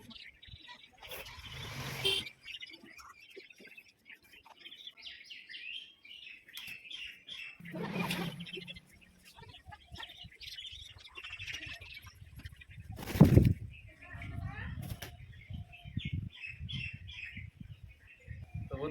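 Pigeons kept as pets call in short chirps and squawks around bath time in hot weather, with bursts of wing flapping and splashing, heard close by with background rustle and occasional louder flurries.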